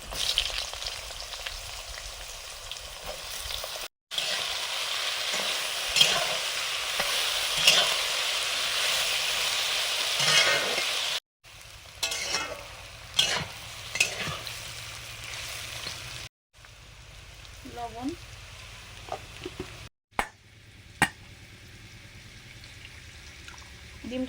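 Potatoes frying in refined oil in a home kitchen give a steady broadband sizzle, broken by brief gaps and occasional stirring scrapes and clinks, with a softer stretch of quieter sizzling toward the end.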